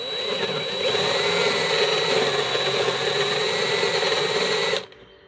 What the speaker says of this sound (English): take this 3/4 inch Forstner bit and drill about halfway into the back of this box